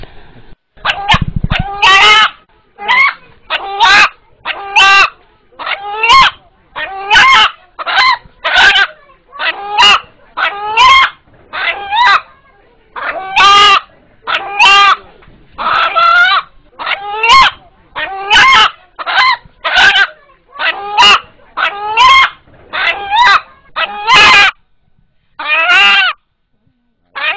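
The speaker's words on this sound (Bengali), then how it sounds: "এখানে উপস্থিত যারা এই মোরগের ডাক শুনলেন," An eight-month-old rooster crows in a run of repeated, sharp harsh calls, each burst loud and near, following one another with brief gaps throughout.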